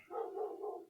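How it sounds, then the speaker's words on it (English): A dog barks three times in quick succession, muffled and somewhat distant, with no other sounds around it. "sorry if you hear some barking in the background"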